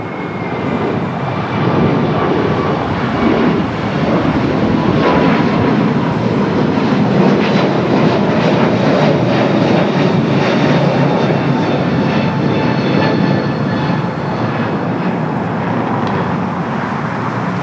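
A KLM airliner passes near the west gates at Los Angeles International Airport, a loud, steady broadband engine roar that holds for most of the stretch, with no talk over it.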